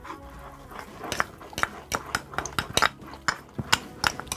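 Foxtail millet flour stirred into a pan for banana-leaf kozhukattai, a spoon scraping and clinking against the metal in a steady series of short, close knocks with no talk.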